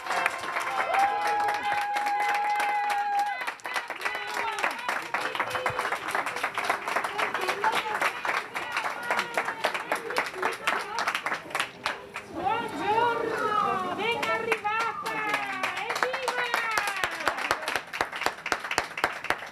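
A crowd of children, parents, doctors and nurses clapping and cheering together at a landing, lively applause mixed with excited voices and chatter throughout.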